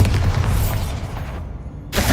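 A Bombarda spell explosion in Hogwarts Legacy lands as a dense, loud burst of rumbling noise that cuts to near silence, then a fresh blast strikes at the very end.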